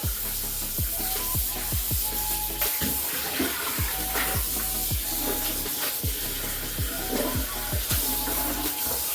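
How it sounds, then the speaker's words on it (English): Steady running cool tap water splashes continuously as raw chicken is rinsed beneath it, with faint clinks and sloshes throughout. "You want to wash them in cool water or cold water."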